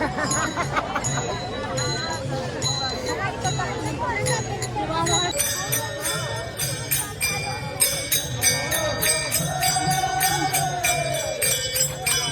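Pilgrims walking in a crowded Alandi to Pune wari procession, with constant crowd babble, chatter close by, and bright jingling bells and cymbal-like tinkles ringing repeatedly through the din.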